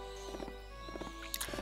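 Horse hoofbeats in the online game 4Story as a mount is ridden, a soft clip-clop rhythm of short repeated thuds over steady game background music.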